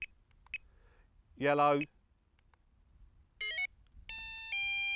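Carp fishing bite alarm beeping in short electronic tones as its colour settings are cycled, with a rising stepped sequence and then steady held beeps, while someone talks between them.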